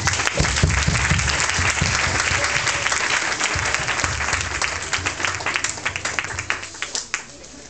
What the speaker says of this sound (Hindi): तो आइए एक बार यीशु मसीह जो हमारे बीच में है उसका तालियां बजा के स्वागत करें